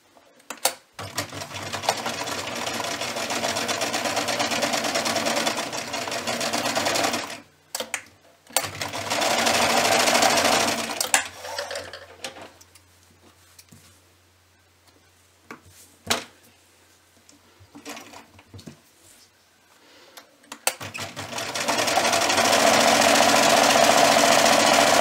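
A sewing machine stitches a fabric tea wallet in long loud whirring runs, stopping and restarting several times with quiet pauses between the bursts of rapid stitching.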